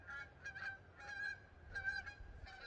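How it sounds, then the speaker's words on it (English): Several geese honk in short repeated bursts as they pass by, faint and a little distant, with no one talking. "wait for the geese to go by"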